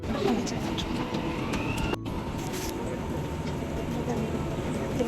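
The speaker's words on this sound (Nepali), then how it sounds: "मेरो मेट्रो पनि आइसक्यो।" A Dubai metro train pulls into a station, a steady rumbling roar with a rising electric whine and a sharp clunk partway through, with faint voices in the background.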